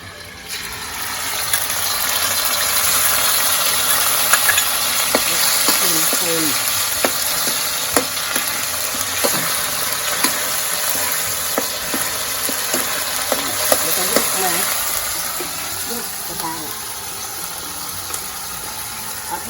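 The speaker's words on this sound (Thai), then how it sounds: "เราจะจะตักน้ำพริกแกงที่เราเตรียมมาครับไปผัดกับน้ำมันเลยนะครับ" Curry paste sizzles and fries in hot oil in a wok, a steady loud hiss with repeated scraping stirs of a spatula throughout.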